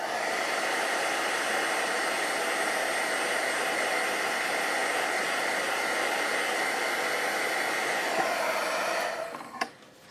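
A hair dryer blows at a steady, loud, continuous whoosh while drying chalk paste on a craft piece, then cuts off abruptly with a click near the end.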